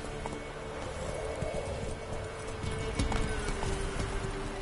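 In The Witcher 3: Wild Hunt, a horse trots with a rhythmic clip-clop of hooves, steady and moderately close over a low ambient game background.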